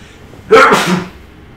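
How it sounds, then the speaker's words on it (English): A single loud sneeze close by, a sudden sharp burst trailing off quickly into quiet. "just sneezed"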